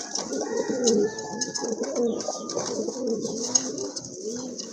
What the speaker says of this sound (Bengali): আরেক জোড়া কবুতর, সুয়াচন্দন কবুতর, খুবই চমৎকার কালার কবুতরগুলোর